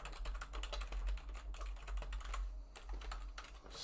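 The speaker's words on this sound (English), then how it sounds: "Let's type this back up." Rapid typing of code on a computer keyboard, a steady close stream of clicking keystrokes with a low hum underneath and no talk.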